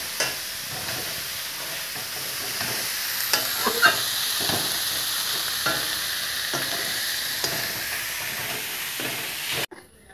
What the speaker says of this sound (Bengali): আলুটা আমি লাল লাল করে ভেজে নিলাম, লবণ হলুদ দিয়ে, পাঁচফোড়ন দিয়ে